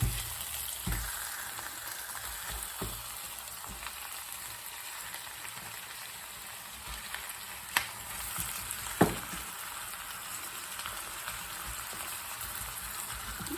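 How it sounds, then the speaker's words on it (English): Minced meat for lasagna fries in a pan with a steady, moderate hiss and crackle and a few sharper utensil knocks and clicks, and no speech. "Now we can add our minced meat"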